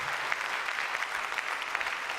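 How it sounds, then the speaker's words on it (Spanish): A church congregation applauds together, a dense, steady wash of clapping that keeps up at full strength throughout, with no voices over it. "denle un aplauso al Señor"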